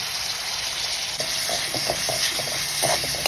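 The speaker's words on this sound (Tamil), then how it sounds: "ஒரு கடாயில் நெய்யை ஊற்றி பிரண்டையை நல்லா வதக்கிங்கோ. கருவேப்பிலையும் போட்டு வதக்கிங்க." Pirandai stalks and curry leaves sauté in ghee in a kadai, a continuous close hiss and sizzle with light irregular ticks and scrapes of stirring, no voices.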